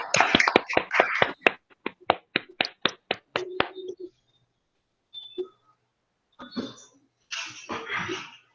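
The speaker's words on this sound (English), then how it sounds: "let's thank the speaker by clapping" Scattered audience clapping at the close of an online mathematics lecture, a run of about a dozen crisp, evenly spaced claps that thins out, then brief rustles and a few later bursts of sound.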